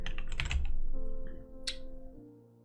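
Typing into a software search field on a computer keyboard, a quick burst of several clicking keystrokes followed by one or two isolated taps, close and fairly quiet against a faint background hum.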